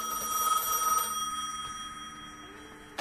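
A telephone rings in the video game Gas Station Simulator, a bright electronic trill repeating for about a second, then fading into a quieter tonal decay with a short click at the end, no talking.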